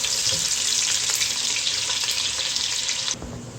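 Onions and a spice bundle frying in ghee for chimla pulao, a loud, dense close sizzle that runs steadily and then drops abruptly quieter near the end, with no talking.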